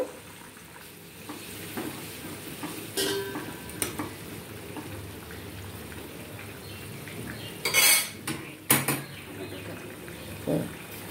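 Metal utensil scraping and clinking in a wok as bottle gourd is stirred with added hot water for snakehead fish curry, with a steady low sizzle underneath and a few louder clanks near the end.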